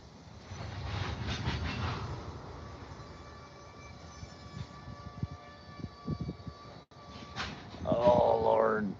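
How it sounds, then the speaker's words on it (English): Freight train on tracks near the Missouri river during a fishing outing, a rumbling roll with squealing wheels and a horn-like tone near the end, under people talking. "Is the train backing up now? Or did it just stop?"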